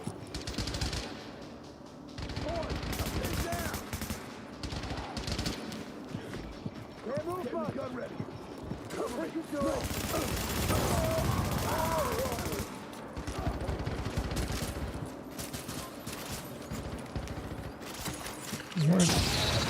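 Gunfire from the video game The Division, with repeated bursts of automatic fire and single shots that come and go in clusters, mixed with in-game voices and effects.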